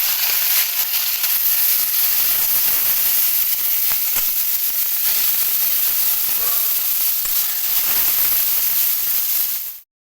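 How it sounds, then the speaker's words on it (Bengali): Small mourala fish frying in hot oil in a home kitchen: a loud, continuous hissing sizzle that holds steady for about ten seconds before cutting off abruptly. "মাছটা ভেজে নেব, তেল দিয়ে দিচ্ছি।"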